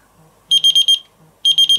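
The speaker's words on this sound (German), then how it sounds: "Och nee, ich will jetzt keinen Alarm." A GrillEye Pro+ grill thermometer alarm gives loud, high electronic beeping in rapid bursts: a run of about five quick beeps, a pause, then another three.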